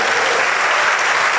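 Dense applause from a church congregation during a sermon, a steady loud wash of many hands clapping with no gaps throughout.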